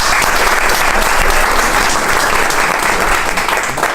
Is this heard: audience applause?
yes